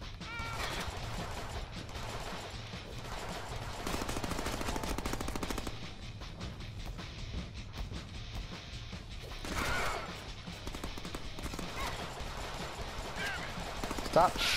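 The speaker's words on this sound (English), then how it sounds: "Stop shooting me, please." Gunfire bursts from a Deadpool video game, loud and repeated in clusters of rapid shots across the stretch, mixed with other game effects and a person talking over it.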